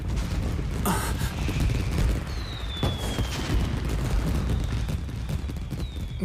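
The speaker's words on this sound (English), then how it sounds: "I'll bring you to the perfect place to watch the fireworks." Fireworks burst in the video game Genshin Impact, with muffled booms, crackles and rising whistles over a dense rumbling background, no speech.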